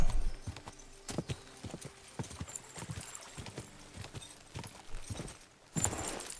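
Horse hooves clip-clop at a steady walking pace in the medieval video game Kingdom Come: Deliverance II, a run of sharp, evenly spaced hoof strikes close by, with a louder burst near the end.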